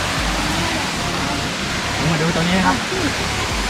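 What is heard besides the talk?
waterfall pouring into a hole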